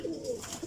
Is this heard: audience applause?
no